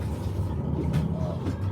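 A blower on an oil-fired cooking stove runs on its turbo setting, giving a steady, close mechanical roar and hum with faint rattles throughout.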